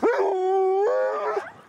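A sled dog lets out a single sustained, tonal howl that shifts pitch partway through, close and clear, lasting under two seconds with no voices.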